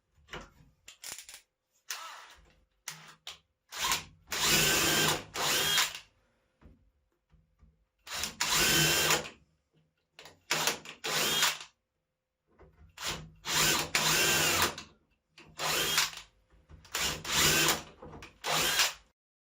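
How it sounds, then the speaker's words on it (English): Power drill fastening self-leveling feet onto a wooden work table, repeated loud whirring bursts of several seconds each with short clicks and handling noises between them, close-up. "Decided to get my other drill here just to make this go a little faster."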